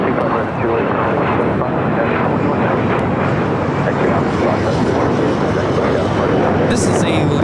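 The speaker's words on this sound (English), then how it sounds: "This is a Learjet 60 taking off." A Learjet 60 business jet takes off at LAX, a steady broadband engine roar holding loud and continuous throughout, with radio chatter from air traffic control mixed in.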